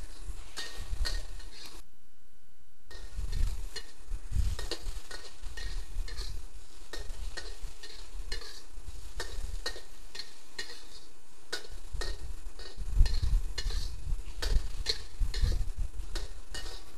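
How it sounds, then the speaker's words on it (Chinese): Bamboo shoots and shredded chicken stir-fried in a wok, a steady scraping and clinking of the spatula against metal over a soft continuous sizzle, close and busy throughout. "拌炒均匀即可起锅"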